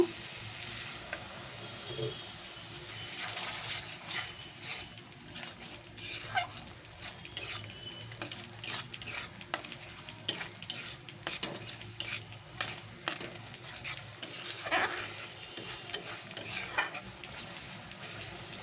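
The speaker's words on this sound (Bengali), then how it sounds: "এখানে আমি অল্প পরিমাণে একটু জল ব্যবহার করব মশলাটা কষার জন্য" Spice paste with a little water frying and being stirred in a pan for a Bengali coconut prawn dish, giving a soft steady sizzle broken by scraping and clinking of a spoon against the pan, with no talking.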